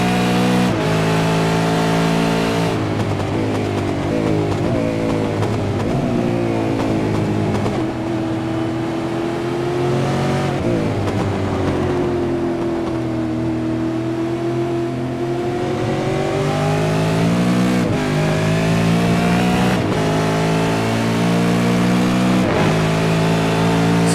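V8 race cars lapping Silverstone in iRacing, engines droning and revving steadily at high volume with shifting pitch, several cars close together and no break in the roar.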